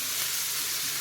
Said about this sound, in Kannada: ನೋಡಿ, ಈರುಳ್ಳಿ ಕೂಡ ಫ್ರೈ ಆಯಿತು.